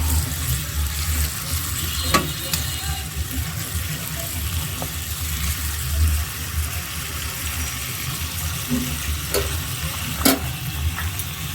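Onions frying in a pan for dal, a steady close sizzle with occasional sharp clicks of a utensil against the pan, no voices.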